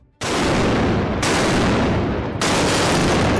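Portside cannons of the British first-rate HMS Britannia firing on the Spanish ship St. Joseph in a naval battle: three loud, booming broadside blasts in quick succession, each cut off sharply and followed by a dense roar.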